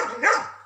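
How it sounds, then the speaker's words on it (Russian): A single short dog bark at a rural house plot, a sharp, fairly close yelp standing out on its own. "Собака лает. Ругается на нас."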